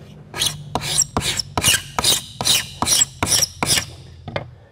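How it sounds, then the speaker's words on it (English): Sharp Norton hand scraper drawn repeatedly across white oak, about nine crisp rasping strokes in a steady rhythm, close and fairly loud with short pauses between passes. "we're just gonna take one of our nice sharp Norton scrapers"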